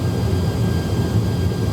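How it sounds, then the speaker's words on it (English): Steady roar of Airbus A330 jet engines in flight in Microsoft Flight Simulator, a loud, continuous broadband hum with a faint whine, no voices over it. "But this airplane's flying nicely."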